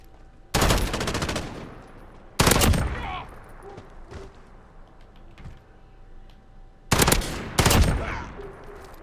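Bursts of FAL rifle fire in the video game Modern Warfare: three loud, sharp volleys of rapid shots with gaps between them and some faint ambient game noise.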